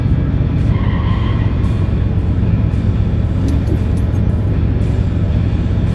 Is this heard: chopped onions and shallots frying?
no